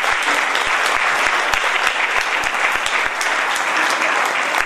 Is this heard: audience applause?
yes